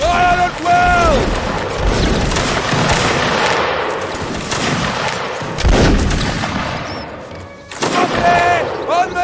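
Musket volleys crack out in Napoleonic Wars, a loud barrage of overlapping gunshots and heavy booms rolling across the battlefield, with voices shouting amid the firing.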